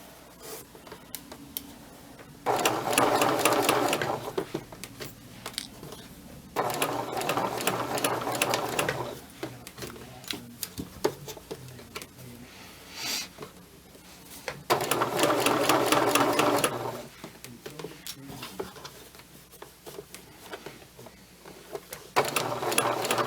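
A sewing machine stitches a princess seam in several loud, steady bursts of rapid mechanical whirring, separated by quiet pauses with faint handling noises, close by and with no talk.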